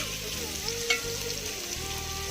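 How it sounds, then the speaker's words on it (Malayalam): Vegetables for a cauliflower vegetable kurma sauté gently in a pan, with a steady, close, soft sizzle and a faint clink of stirring partway through. "ഇതൊന്ന് ചെറുതായി ഒന്ന് വഴന്ന് വരട്ടെ"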